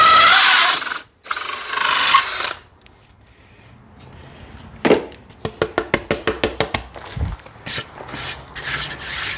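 A power drill spins up at high speed and bores a pilot hole into mahogany trim on a 1958 Feathercraft Vagabond aluminum boat, loud whirring bursts followed by a run of short rhythmic grinding pulses.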